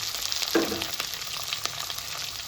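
Curry leaves, green chillies and onions fry in hot oil in a home kitchen, giving a steady close sizzle with a brief louder crackle burst early and occasional soft stirring clicks, no voices.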